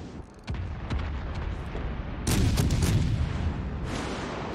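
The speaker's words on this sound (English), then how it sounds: "Too many people shooting at us." Naval gunfire in World of Warships Legends, deep booming salvos and rolling rumble, with a sharp onset early and a heavier burst of blasts midway, sustained and loud without talk.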